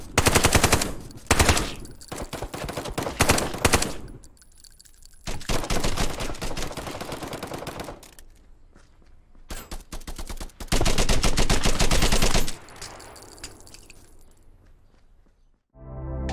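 Machine gun fire from the military shooter video game Contractors rattles out in loud, sustained bursts, separated by brief quieter gaps, with a final burst at the end.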